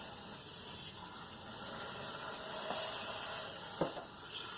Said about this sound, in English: we're going to soak that all the way through there